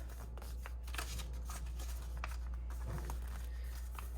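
Paper being folded and creased into an origami balloon, a series of soft, dry crinkles and rustles close by over a steady low hum.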